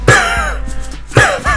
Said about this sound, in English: It's coughing.